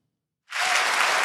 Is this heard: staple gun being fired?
no